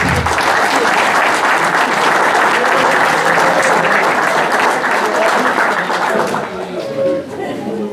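Loud, sustained applause from an audience at a hunting-hound pack competition in Roiffieux, dense clapping filling the whole stretch and thinning slightly near the end, with some crowd chatter mixed in.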